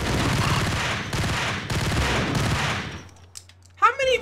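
Sustained automatic gunfire bursts from the Max Payne shooter in a parking lot level, loud and continuous, then a sudden cutoff followed by brief faint sounds.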